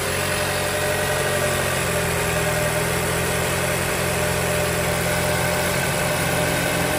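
A misfiring 2020 Toyota Camry four-cylinder engine idles roughly, a loud, close, continuous rumble with an uneven shaking throb and no talk over it.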